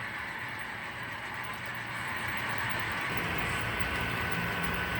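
A Kato model train runs on a layout laid with Kato track, giving a steady close whirring rumble with light rail clatter throughout and no voices.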